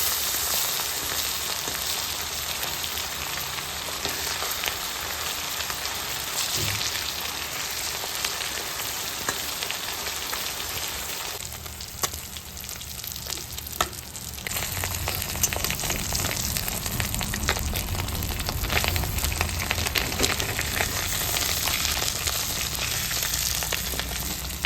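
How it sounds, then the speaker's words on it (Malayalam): Fish pieces frying in a pan until both sides crisp, a loud continuous crackling sizzle close up that dips briefly in the middle before surging back, with no talking. "എന്നിട്ട് നമുക്ക് 2 വശവും മൊരിയിച്ചെടുക്കാം."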